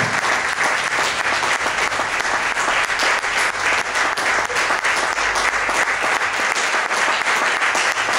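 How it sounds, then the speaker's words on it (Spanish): A congregation at a church service claps loudly and steadily for several seconds, a dense close applause with no talk over it. "Dale un aplauso fuerte al Señor"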